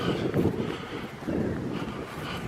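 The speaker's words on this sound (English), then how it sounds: "It's a bit blowy, breezy." Wind buffets a microphone on an autumn causeway walk, making loud low rumbling gusts that swell and ease in a couple of waves, with no voices.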